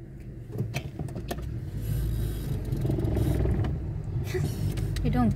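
A car drives through traffic in the Wexford countryside, Ireland, with a low engine rumble, road noise and occasional clatter, growing slightly louder midway, with no one talking.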